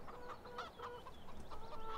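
Free-roaming chickens in the video game Farming Simulator 17 cluck in short, repeated bursts, several birds overlapping at moderate distance over a faint ambient bed.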